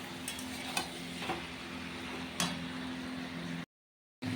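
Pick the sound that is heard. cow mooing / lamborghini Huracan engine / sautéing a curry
sautéing a curry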